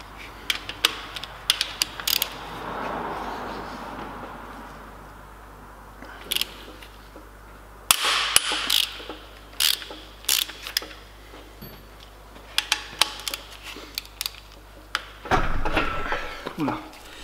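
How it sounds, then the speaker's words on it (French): A ratchet wrench loosens the ten cylinder head bolts on a car engine during a head gasket job, with bursts of sharp clicking ratchet strokes and clanks between quieter stretches, close up with no voices. "on va maintenant desserrer les 10 boulons de culasse là."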